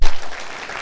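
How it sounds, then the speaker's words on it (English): A short, loud burst of audience applause for a group leader at a youth leadership event, dense clapping that stays steady through under a second. "I'm going to go ahead and give him a round of applause."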